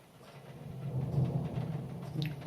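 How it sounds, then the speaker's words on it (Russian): Thunder rumbles low and steady through an evening rainstorm in Kramatorsk, a broad muffled roll that swells midway and lingers at moderate distance over the hiss of rain. "Гром."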